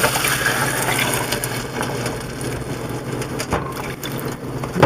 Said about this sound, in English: we're going to add a half a cup of white wine and a half a cup of water